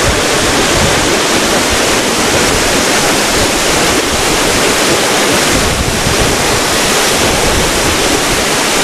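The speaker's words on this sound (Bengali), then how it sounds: "দেখুন জলের এত স্রোত, জলের ছিটে আমার এখানেই আছে।" Strong rushing water at Changey Waterfall in North Bengal, a loud, constant roar of falling and churning water heard up close, filling the whole clip without pause.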